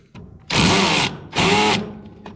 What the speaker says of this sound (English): I put my drill on screw mode, and I give it and twist the screw mode until I get enough push to pull that through.